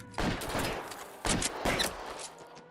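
Gunfire in a bank shootout from a video game: loud bursts of rapid shots come in several volleys, with short pauses between them and a faint background drone.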